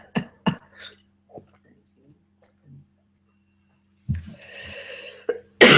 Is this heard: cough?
yes